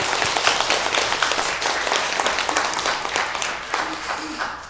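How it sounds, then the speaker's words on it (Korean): A church congregation applauds during a Sunday worship service, steady clapping filling the room for several seconds at moderate loudness, with some voices mixed in. "격려의 박수 한번 해주십니다"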